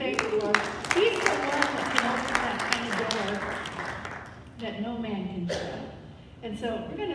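Audience clapping at an acoustic gospel evening, a dense spell of hand claps that thins out partway through and then picks up again, with voices mixed in.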